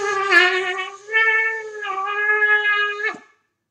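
A shofar sounds a single long tekia note, loud and close, held for about three seconds with a bright reedy tone that wavers slightly in pitch before cutting off sharply.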